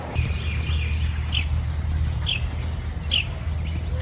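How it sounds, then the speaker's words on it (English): Birds chirp in short, scattered calls during an outdoor walk among trees, fairly faint over a steady low background rumble, with no one talking. "I like to watch the birds and the trees. No music, just the sound of nature."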